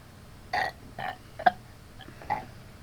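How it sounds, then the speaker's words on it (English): Several people burping in turn, five short separate belches spaced about half a second apart, fairly close, over a quiet room with no talking. "Or we'll just burp in a random order."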